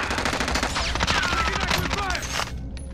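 Automatic weapons in a video game fire in a sustained, rapid fusillade, loud and close and nearly continuous for several seconds, with voices talking underneath.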